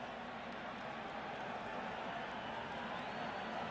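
A college football stadium crowd at a 2002 Texas vs Nebraska game makes a faint, distant, steady roar. The noise holds evenly, with no distinct cheers standing out.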